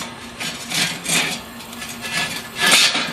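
A grill grate is set into a Kamado Joe charcoal grill, making several close, rough scraping and rubbing clunks in uneven bursts with no talking.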